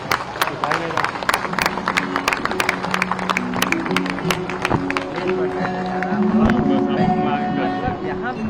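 Standing crowd applauding at a State Bank of India centenary event in Gorakhpur, a steady run of sharp claps with crowd noise and voices underneath.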